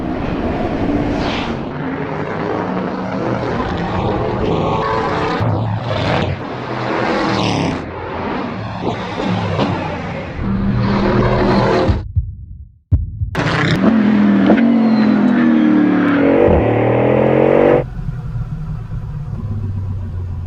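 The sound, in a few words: Bugatti Bolide hypercar driving and accelerating on track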